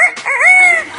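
A bird mimics a rooster's crow on request, a single short, loud, close call with a rising and falling tonal sweep lasting about a second.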